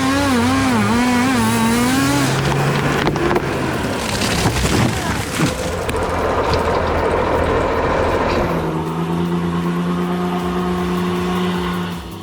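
Heavy Ford Cargo 3230 truck engine labouring on a rough, challenging road, a loud continuous drone with rising and falling revs, a deep booming stretch midway, then a steadier lower throb near the end.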